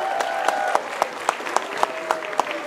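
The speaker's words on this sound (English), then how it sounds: "Can we have a big round of applause," Applause from the audience at a Cobourg community event where the Stanley Cup is being shown, a steady wash of clapping with sharper individual claps punctuating it, fairly close and continuous throughout.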